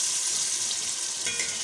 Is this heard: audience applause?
no